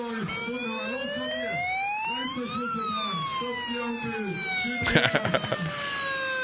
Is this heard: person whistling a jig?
no